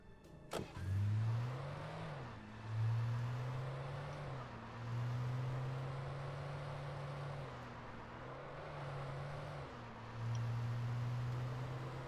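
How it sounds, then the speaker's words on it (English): A car driven in the Alan Wake video game: a steady mid-pitched engine drone rising and falling through several gear changes over twelve seconds, close and moderately loud, with no talking. "The car driving sequences in this are actually really fun."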